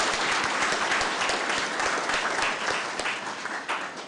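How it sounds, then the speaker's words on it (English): Audience applause at the Kenyan moot court competition, heard alone: a dense, continuous patter of many hands clapping at fairly close range, holding steady before easing slightly near the end. "let's give the organizers one last hand of applause"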